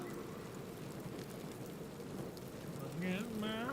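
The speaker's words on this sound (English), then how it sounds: "I can't stand the rain." Steady rain falls in Baldur's Gate as a constant soft hiss. Near the end, a voice rises above it.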